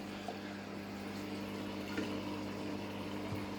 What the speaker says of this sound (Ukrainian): черпачочок і таким методом, як завжди, потрошку підливаємо водички